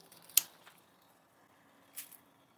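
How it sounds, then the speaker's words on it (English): Worn, dull household scissors snip canna seed pods off a hanging flower basket: one sharp, close snip and a softer second cut about a second and a half later, against a quiet background. "I try to get them as low as I can, but these are not great scissors."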